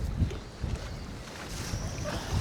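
Heavy wind while fishing from a boat in Canada, gusty low buffeting that thumps and rumbles against the microphone in uneven pulses, with no clear voices.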